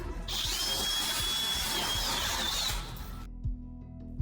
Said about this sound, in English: staff began drilling through the lock to grant them access